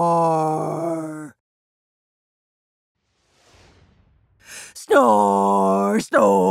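A voice imitates snoring in an animated, playful way, with drawn-out moaning tones, a pause filled by a faint breathy exhale, and then two more loud vocal snore sounds close to the listener.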